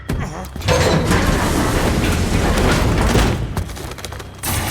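Dense bursts of gunfire and booming impacts fill a Call of Duty Modern Warfare 3 firefight, loud and continuous with crackling shots, fading briefly near the end.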